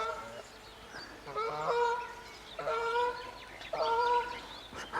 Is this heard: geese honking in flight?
yes